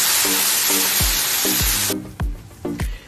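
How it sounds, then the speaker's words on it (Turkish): Cream pours into a hot pan of sautéed chicken pieces. A loud hiss and sizzle drops off sharply as the liquid lands, and a repeated scraping stir and clatter of a utensil runs through it. "Kremamızı döküyoruz."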